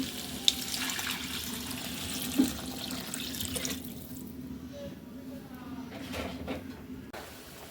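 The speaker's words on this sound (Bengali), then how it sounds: "ঝোলের পানি দিয়ে দিচ্ছি" Water is poured into a curry pot of potatoes and pumpkin bori, producing a running, splashing pour that softens and thins out midway, with faint background noise.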